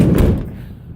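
A Sprinter van's sliding door with a missing roller wheel, heard as a single loud close thunk as the door slides and stops, quickly fading to quiet.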